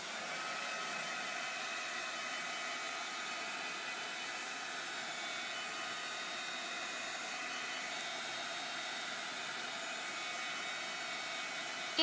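A heat dryer blows steadily on painted chipboard coated in Antique Hickory color, a continuous, loud, even whoosh of air that holds without a break from start to finish.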